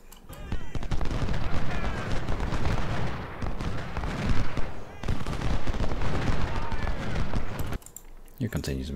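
Massed musket volleys and booming artillery fire in the Civil War strategy game Ultimate General, a dense, continuous rattle of shots with heavy thumps throughout, easing near the end, with someone talking over it.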